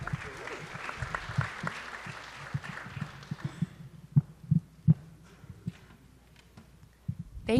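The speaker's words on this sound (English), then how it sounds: "Thanks for the applause." Applause in a board of education meeting room for the Director of Guidance, a smattering of clapping that fades after a few seconds, followed by thumps and handling noise near a microphone.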